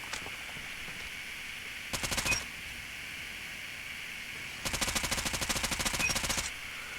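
An AS VAL rifle fires in a video game: one short rapid burst, a pause, then a longer sustained burst of quick shots, all over a steady background hum.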